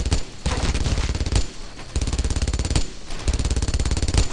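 Sustained automatic gunfire rattles in dense, repeated bursts with brief gaps, loud and close, from a World War II firefight in the video game Brothers in Arms: Earned in Blood.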